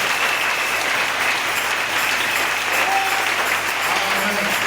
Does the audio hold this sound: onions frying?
no